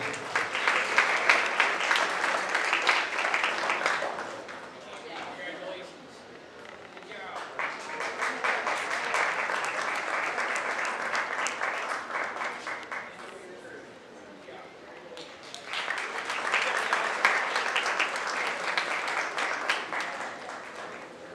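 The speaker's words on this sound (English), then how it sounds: "Let's give them all one big round of applause again." A county fair 4-H goat show audience claps in a long round of applause, in three loud bursts separated by quieter gaps, with an announcer's voice over part of it.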